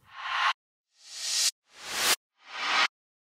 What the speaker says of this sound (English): short sweeps